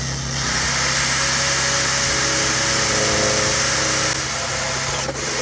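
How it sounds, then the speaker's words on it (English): A power drill whines continuously and loudly throughout as it bores a hole in bamboo, its steady motor drone filling the space with a brief dip near the end. "drill a hole right here where we made our mark"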